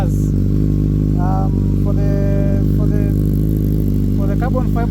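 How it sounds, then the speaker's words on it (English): A motorcycle fitted with a carbon fiber exhaust idles and revs with a loud, steady buzzing drone, a Yamaha R1 or Kawasaki Z900, with brief rising rev blips and someone speaking over the engine. "the carbon fiber exhaust, it ain't that much loud, especially on low revs, but on high revs you'll hear the voice or the sound."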